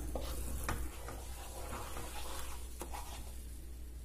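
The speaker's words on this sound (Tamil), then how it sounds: "நம்ம எடுத்து வச்ச நெய்யை ஊற்றி கடலை மாவை நல்லா வறுத்துக்கலாங்க" Gram flour roasting in ghee in a kadai for a besan milk sweet makes a soft, quiet sizzle under a low steady hum, with a few light scraping stirs of a spatula.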